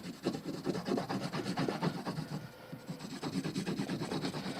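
Honing compound being worked onto the rough side of a leather strop, a close, rhythmic rubbing and scratching with repeated back-and-forth strokes throughout.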